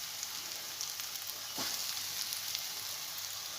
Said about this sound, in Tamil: நான் எப்போவுமே ஷாலோ ஃப்ரை தாங்க பண்ணுவேன்.